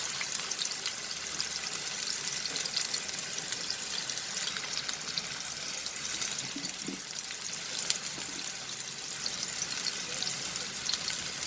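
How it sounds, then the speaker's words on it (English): Chicken keema kebabs fry in a pan of oil over a medium flame. A steady, bright sizzle with spattering crackles fills the whole stretch, close and even. "place this in the pan. Be careful friends, as oil splatters a lot."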